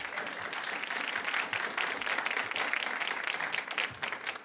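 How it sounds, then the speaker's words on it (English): An audience at a student television awards event claps for the winners in a dense, sustained round of applause that stays loud and even throughout. "Let's give them one more round of applause."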